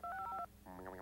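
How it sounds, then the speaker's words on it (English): Touch-tone keypad dialing of 1-800-COLLECT in a 1996 TV commercial: a quick run of steady, loud two-note beeps, then a rising, buzzy tone toward the end. "Okay, Rocket, show us how easy it is to dial 1-800-COLLECT"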